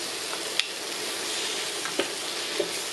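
Garlic with chilli powder, turmeric and curry masala sizzles steadily in a pan for squid curry, a close continuous frying hiss broken by a few light spatula clicks.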